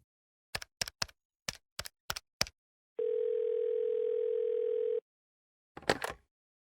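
A telephone handset gives a steady, moderately loud dial tone lasting about two seconds, preceded by a quick run of separate clicks and followed by a short rustling bump, with no voices.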